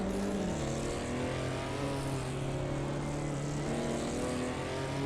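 Engines of race cars, including a Volkswagen Polo GTI and a Ferrari 250 GT Berlinetta, in a racing video game: a loud, continuous droning whine with steady harmonic tones that shift slightly in pitch as cars rev and pass.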